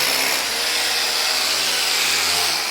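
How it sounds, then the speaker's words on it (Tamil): An electric drill bores into a floor during termite treatment in a new home, a loud, continuous high-pitched whirring grind close by, with no talking. "கம்ப்ளீட்டாக ட்ரில் பண்ணி இன்ஜெக்ஷன் பண்ணிட்டுருக்காங்க"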